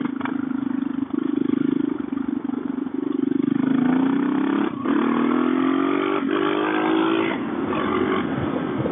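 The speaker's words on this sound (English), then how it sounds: "That was a second gear wheelie, no clutch." A lighter dual-sport motorcycle, a DR650 or KLR650 with a Mikuni carburetor, pulls a second-gear wheelie without the clutch, its engine droning loud and close as the pitch climbs steadily under hard acceleration, with brief dips at shifts.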